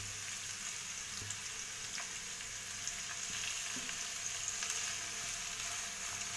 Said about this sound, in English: Flame should be slow to medium. Fry it